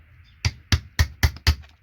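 A hammer strikes a chisel to knock IC chips off a circuit board, five sharp, close metallic knocks in a steady rhythm about a quarter second apart, with a faint hum underneath.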